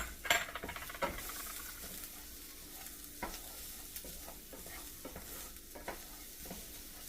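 Three to four small garlic cloves fry in a pan for homemade sloppy joes, giving a steady soft sizzle with scattered stirring scrapes and utensil taps throughout, close and alone with no talking.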